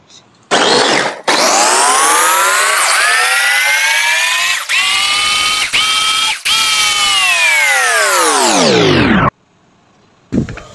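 A blender whirs loudly and steadily, grinding spice paste thinned with water or cooking oil for grilled fish; the motor starts, runs about eight seconds with brief dips as the load shifts, winds down, then blips once more.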